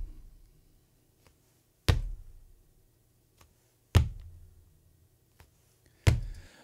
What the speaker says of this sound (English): And let's start with the foot. The foot converse, it sounds like this.